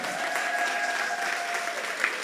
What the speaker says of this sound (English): give a big clap